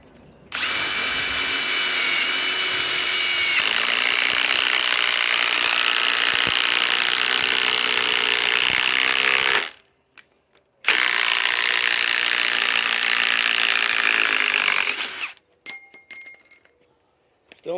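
A Ryobi PSBIW25 compact impact wrench on an 8 amp 21700 cell battery hammers away in a long, loud, continuous burst, pauses briefly, runs again, then stops with a few short clatters.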